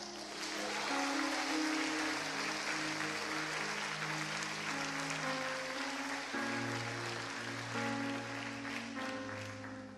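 A church congregation applauds steadily, a dense, even wash of clapping that holds for the whole stretch, with organ or keyboard chords sustaining underneath.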